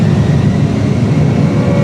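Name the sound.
A320 airliner engines during takeoff roll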